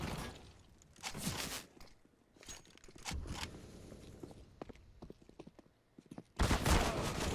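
Gunfire in an online shooter video game match: several loud bursts ring out amid quieter footsteps and scattered clicks, with a final heavy volley at the end.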